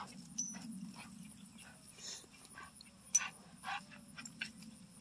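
Working hunting dog giving soft whimpers, yips and breathy panting, close and fairly quiet over a low steady rumble, with scattered faint clicks and no talking.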